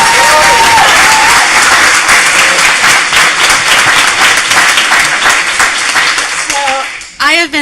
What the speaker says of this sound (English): I think we can still give them a round of applause